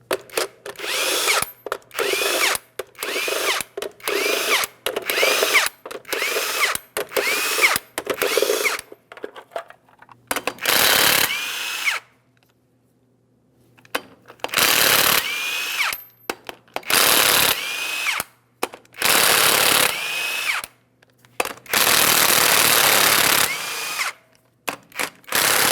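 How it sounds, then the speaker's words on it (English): A power tool rattles off 22mm lug nuts from the front wheel of a 2007-2014 GMC Sierra 2500 HD, with loud repeated bursts of impact hammering, brief pauses and a longer gap between runs. "we'll remove all 8 of our 22mm lug nuts as well"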